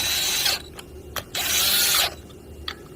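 Bolts are run down with a power tool on the gear reduction plate of a Honda Rancher ATV, heard as two close, loud bursts of whirring with short ratcheting clicks between them, and no talk.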